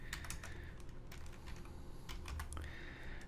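Fast, irregular typing on a computer keyboard, with clustered clicks of individual keys, close by and fairly soft, while an address is entered in a Bootstrap 4 web page.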